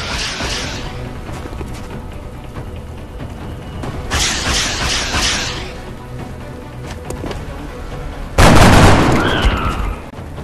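Gunfire in the video game XCOM: Enemy Unknown, loud bursts of rapid weapon fire and booming impacts in several bursts, with the heaviest burst near the end, over a continuous rumbling battle background.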